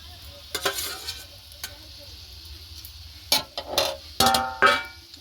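Pieces of rupchanda fish being added to a simmering curry, with soft sizzling and bubbling under a low steady hum, punctuated by a few sharp clinks and stirring scrapes toward the end.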